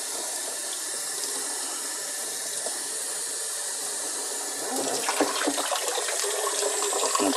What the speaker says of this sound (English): You're going to rinse one side and then the other side.